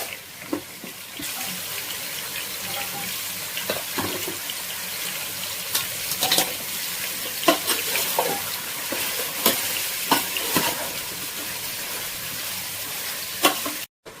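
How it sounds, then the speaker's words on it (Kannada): Continuous loud sizzling of radish frying in a pan, with intermittent scraping and stirring clatter throughout, ending abruptly. "ಸೊ ಈಗ ಮೂಲಂಗಿನ ಚೆನ್ನಾಗಿ ಫ್ರೈ ಮಾಡ್ಕೊಳ್ಳಿ."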